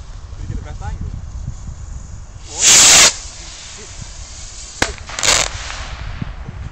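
A small firework is lit and goes off outdoors in wind, giving a sharp hissing burst, a crack and a second shorter hiss, with people talking around it.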